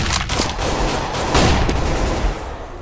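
Dense Counter-Strike: Global Offensive gunfire in a competitive match, a sustained rattle of rapid automatic shots and overlapping bursts running loud and continuous, with a brief pause near the end.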